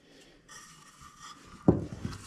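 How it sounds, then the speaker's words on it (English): Wooden bench boards are sanded by hand at the ends, a soft rasping rub that builds to a sharper, louder scrape near the end of a short, quiet passage. "sanding the ends here"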